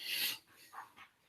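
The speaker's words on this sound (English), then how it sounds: "That's my dog, everyone." A dog pants and whimpers softly indoors, with a short burst of breathy panting followed by a few faint whines, close but quiet.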